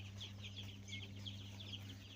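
A batch of about 280 newly hatched Sonali chicks peeps in a continuous, overlapping chorus of high, thin chirps over a low steady hum.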